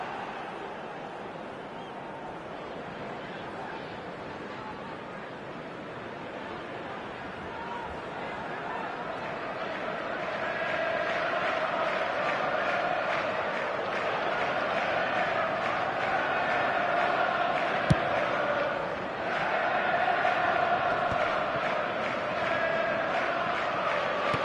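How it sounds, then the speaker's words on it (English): A football stadium crowd roars continuously, a broad, distant wash of voices that swells noticeably louder partway through and stays raised as excitement builds. "but it certainly got the crowd going"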